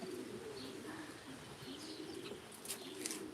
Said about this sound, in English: Pigeons move and sound different, don't they, to other birds?